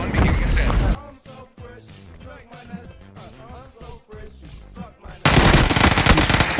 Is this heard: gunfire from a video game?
yes